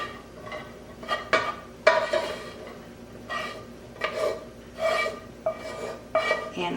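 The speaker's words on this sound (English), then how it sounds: "In my saucepan, I'll add in my ground beef." Irregular scraping and clinking of a utensil against a saucepan as ground beef is added, several separate strokes, close up, with no talking.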